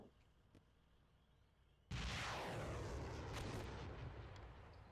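A heavy artillery blast erupts suddenly in the Steel Beasts Pro PE tank simulator, followed by a long rumbling roar and debris noise that slowly fades, with no voices.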